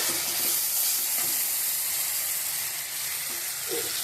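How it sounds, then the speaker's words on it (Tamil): Ground tomato sizzles steadily in a hot pan for a mutton liver gravy, a dense continuous frying hiss with faint scraping as it is stirred, close and fairly loud. "இப்போ போட்டுட்டு இதுக்கு நல்லா கிளறி விட்டுக்கலாம்."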